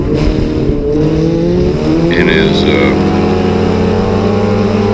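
A loud car engine with a straight exhaust manifold drones steadily and harshly throughout, a constant rough rumble with a brief higher whine in the middle, while a voice speaks briefly over it.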